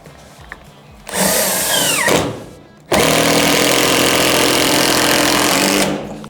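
A power drill fastens window installation straps while a Schuco window goes in, with a short whine that winds down, a brief pause, then a longer loud, steady run.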